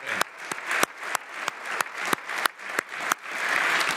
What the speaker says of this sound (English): I would ask for a round of applause for Vice President Julie Guiu